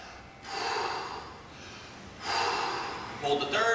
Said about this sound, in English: Make sure we get 3 big breaths at each rep